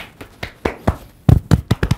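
Hands pat and slap against the body in a self-massage, a run of about ten sharp, close taps that grow louder and quicker toward the end, with no talk.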